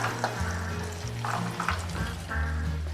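Black chickpeas and potatoes fry in a pressure cooker with a continuous sizzle, and a spoon stirs and scrapes now and then, close and steady with no voices.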